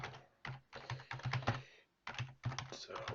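Rapid keystrokes on a computer keyboard while a name and email address are entered into an online form, coming in clustered bursts of clicks separated by short pauses, close and fairly quiet.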